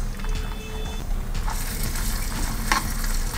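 Crushed ginger, garlic and fennel paste sizzling and frying in hot oil in a kadai, a steady crackling hiss with light stirring, close and alone.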